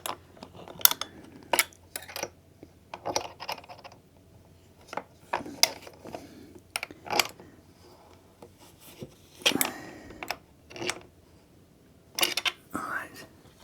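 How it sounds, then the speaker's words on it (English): Bolts on a Trojan convertible creeper seat being tightened against locking nuts, a run of short close ratcheting clicks and metallic rubs in uneven bursts with quiet gaps between. "if you bring your bolts just to the end of your locking nuts, it just gives it a pinch"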